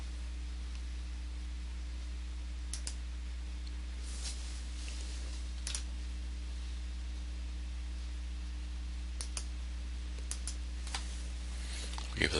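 Sparse computer keyboard taps and mouse clicks land in scattered bursts over a steady electrical hum, faint and close, with no talk.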